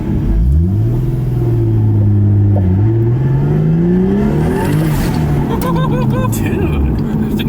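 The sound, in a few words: Nissan S14 240SX turbo car driving with worn wheel bearings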